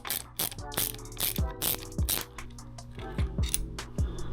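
A socket ratchet turns a 10mm nut on the clutch lever of a 2022 Suzuki GSX-S1000 motorcycle, giving a run of close, crisp clicking bursts with brief pauses between strokes.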